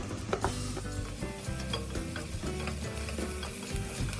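Onion frying with a ginger, garlic and green chili paste for aloo baingan, stirred in a pan: a steady close sizzle runs throughout, broken by repeated scraping strokes of the spoon.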